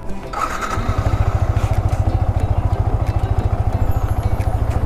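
A Yamaha R15 motorcycle engine cold-starts and settles into a steady, rapid idle thump, loud and close, running alone without talk.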